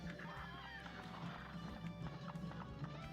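Horse hooves clip-clopping in the Cuphead video game, a steady trotting rhythm over layered game music, with occasional whinnies, fairly loud and continuous.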